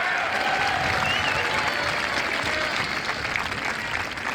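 A crowd at a Windber time capsule ceremony gives a steady round of applause, a continuous wash of clapping at moderate distance, with faint voices and a whistle-like tone threaded through it.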